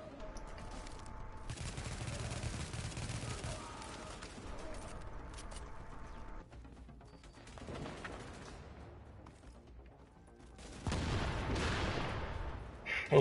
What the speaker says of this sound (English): this little submachine gun